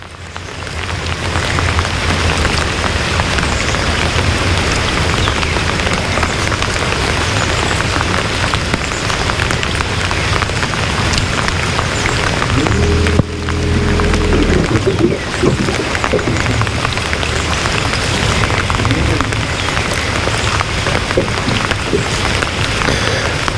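Steady rain drums on the surface during a fishing outing in May, a dense continuous hiss with a brief dip partway through and no talk.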